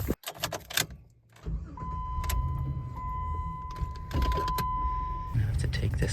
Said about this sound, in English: Let's see if we can fit the Jeep between the rocks and then we can get to it.